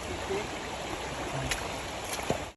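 Steady flowing water of a river stream, a continuous broadband rush close by, with a few faint clicks and knocks on top and no speech.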